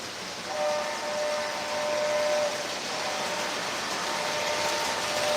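A model train sounds its horn, a steady tonal blast lasting about two seconds, over the continuous whirring rumble of the running train. No one speaks.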